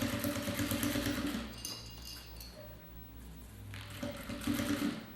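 A sewing machine stitches a shoulder bag with a zipper channel in short, steady bursts of running motor and needle chatter, easing off briefly in the middle before picking up again, close and fairly quiet with no talk.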